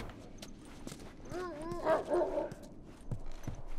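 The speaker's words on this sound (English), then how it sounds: "I mean, I still hear your fucking dogs." Dogs bark and yelp in The Last of Us video game, a short burst of rising and falling barks heard briefly amid other game noise and faint clatter.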